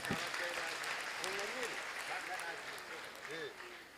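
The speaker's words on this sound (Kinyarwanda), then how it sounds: "Reka dukomere Imana amashyi kubwa Mama Bishop" An audience at a church performance claps in a dense, steady burst. A voice rises over the applause and carries on across it for the whole stretch.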